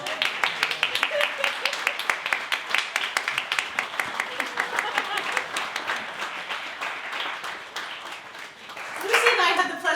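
An audience gives a composer a long, full round of applause at a song concert, dense clapping that carries on throughout, with a voice rising as the clapping fades near the end.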